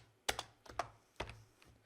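Someone types on a computer keyboard, a few close, distinct key clacks in an uneven rhythm, heard alone without speech.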